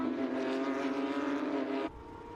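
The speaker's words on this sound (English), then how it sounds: "So cars rolling on the formation lap." Porsche 992 Cup cars with flat-six engines drone together on the formation lap of a Carrera Cup Asia race in a steady, sustained roar that drops in level near the end.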